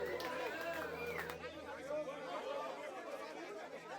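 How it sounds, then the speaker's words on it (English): Steady indoor crowd chatter in the video game Lamplight City, many overlapping voices murmuring at once with a roomy, enclosed feel, continuous throughout. "Sounds like a crowd indoors, not outdoors."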